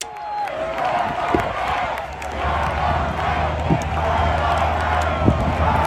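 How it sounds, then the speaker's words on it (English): A dense crowd chanting outside a presidential debate venue, a steady, loud wash of many voices with occasional sharper shouts, close and continuous throughout. "I couldn't understand what they were chanting here"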